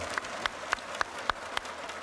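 Six evenly spaced single hand claps ring out sharply, each a crisp isolated smack with brief gaps between them, moderately loud against a quiet background.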